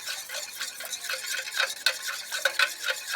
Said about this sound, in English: I just continue stirring and stirring